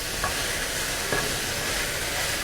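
Pork sizzles steadily in a hot pan while being fried for Thai fried rice, a continuous close hiss and crackle with no voices.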